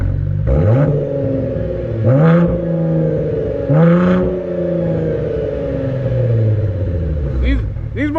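Cadillac ATS-V twin-turbo V6 revving in repeated rising bursts, roughly three strong pulls over a steady rumbling idle, loud and close with a brief turbo whoosh near the end; people talk over it.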